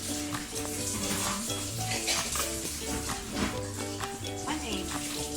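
Ukoy batter of bean sprouts and water being stirred in a bowl, a steady scraping, clattering mix continuing throughout, with a background voice and tonal music underneath.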